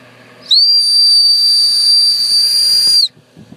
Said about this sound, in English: I have a whistle. It's like a trumpet.